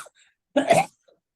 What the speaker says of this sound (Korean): 말 시작할 때 이 기침이 나와요.